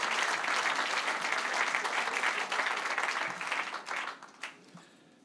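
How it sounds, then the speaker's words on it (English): A crowd at a Philadelphia Navy Yard development announcement applauds, a loud, dense wash of clapping that thins into scattered claps and fades out near the end. "Let's give him a round of applause."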